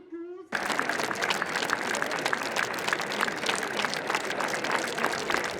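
A football crowd at a Coupe de France match between FC Périgny and Châtellerault applauds steadily in tribute before kick-off, a dense, sustained clapping that starts abruptly after a brief tonal sound and continues at moderate distance.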